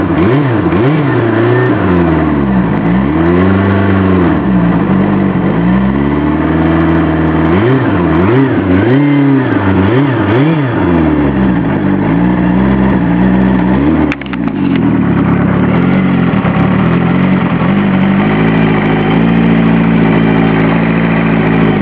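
A Kawasaki GPZ Turbo motorcycle engine idles loudly and close after a cold start, running rough and uneven with wavering revs and small surges throughout, with no talk.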